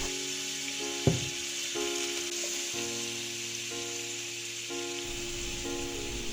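Garlic and the white part of green onion sauté in melted butter in a pan, giving a steady, close sizzle with one sharp clack near the start and no talking.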